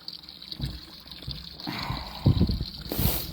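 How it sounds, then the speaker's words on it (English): Water from a small 25-foot garden hose filling a container outdoors: a pressured trickle and gurgle that swells louder partway through, with splashy surges near the end. "it's filling up nicely. That little hose does give it a little bit of pressure."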